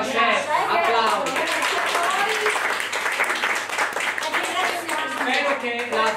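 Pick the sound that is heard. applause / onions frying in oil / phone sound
applause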